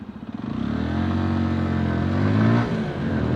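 A 2022 MASH X-ride 125 motorcycle pulls away, its small single-cylinder engine revving up steadily and smoothly from close by, loud and alone for a few seconds.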